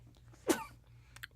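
A single sudden sneeze bursts out at moderate volume in a quiet indoor room, followed by a faint short sound a moment later, with a low steady hum underneath.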